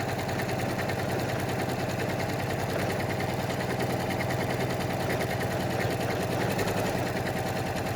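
Janome M7 sewing machine stitching decorative lettering joined by a bridge stitch: a steady, fast mechanical whirring hum with rapid even needle beats, close and continuous throughout, no voices.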